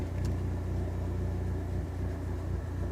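A car engine misfiring at idle after a dose of carb cleaner, with a faulty idle air controller. It runs as a steady, close, low rumble with an uneven pulse and no talking.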